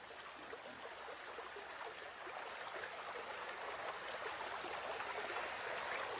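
A river flowing steadily at dusk in the wild, a continuous broadband rush of water that holds even and full throughout, no voices.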